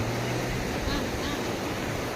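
Sea waves wash against the shore after a boat ride, a steady broadband rush of surf filling the whole stretch close to the microphone.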